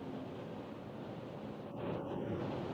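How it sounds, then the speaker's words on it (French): Steady wind noise rushes over a 2025 Dacia Duster at speed on the German Autobahn, a broad continuous roar heard from inside the cabin that swells slightly louder toward the end, with no talking. "le bruit du vent est vraiment perceptible"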